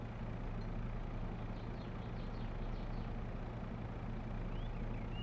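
A Farming Simulator 22 tractor engine idles as a low, steady rumble, faint and even throughout with no talk.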